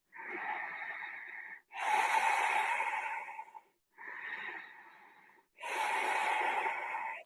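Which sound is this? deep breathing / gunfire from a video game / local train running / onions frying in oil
deep breathing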